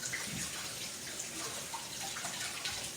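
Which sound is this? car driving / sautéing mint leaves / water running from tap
water running from tap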